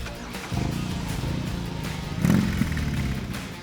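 A BMW R18 two-cylinder boxer motorcycle engine, a low lumpy rumble that swells with a brief rev near the end, close and moderately loud, with no talking.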